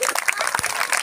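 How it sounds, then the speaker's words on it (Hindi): Brief burst of clapping from a seated audience at a community talk on de-addiction, dense and close for about a second. "एक बार जोरदार राजेश जी के लिए तालियां"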